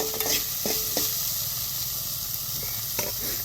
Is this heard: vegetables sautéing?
yes